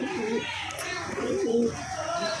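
Pigeons kept in a homemade cage coo nearby in low, rolling repeated calls, two or three phrases over a soft background.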